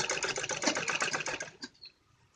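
A sewing machine runs a fast, rhythmic burst of stitches along the side of a net-cloth kurti, then slows and stops near the end, leaving quiet, with no talk.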